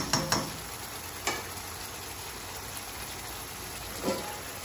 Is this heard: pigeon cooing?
no